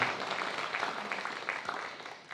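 Applause from a live podcast audience in a theatre: a brief round of clapping with a few sharper individual claps, fairly close, tapering off toward the end.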